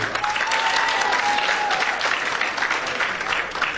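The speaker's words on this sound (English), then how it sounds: "Let's keep clapping for them until they reach the podium." Sustained applause from an audience at a regional school competition, greeting the winning high school as its team heads to the podium; dense, steady clapping holds throughout at an even level, with a faint whistle-like tone in the crowd noise.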